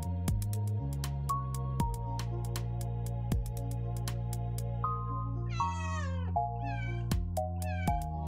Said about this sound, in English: How many fucking cats do I need to kill for level 1?